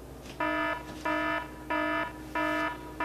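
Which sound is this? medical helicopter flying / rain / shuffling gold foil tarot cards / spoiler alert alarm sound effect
spoiler alert alarm sound effect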